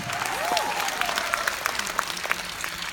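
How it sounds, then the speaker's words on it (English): Audience applause rings out at a Jeunesse leadership event, a steady, dense patter of many hands clapping at moderate loudness with no speech over it. "Give yourselves a round of applause for choosing Jeunesse."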